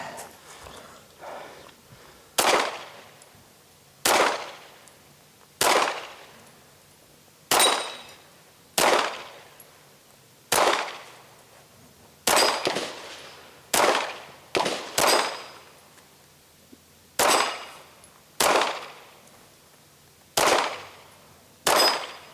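Rifle shots ring out at the Lynx Brutality 2022 shooting competition, roughly fifteen sharp, loud cracks spaced a second or two apart, each with a short echoing decay, some nearly doubled, over quiet outdoor background.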